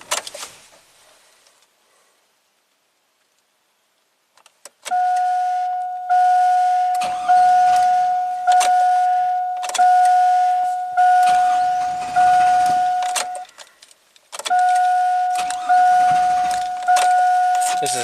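A GM Chevy V8 cranks repeatedly without catching, the starter whirring in a rhythmic series of evenly spaced pulses with a steady tone, briefly stopping then cranking again, after a quiet pause at the start.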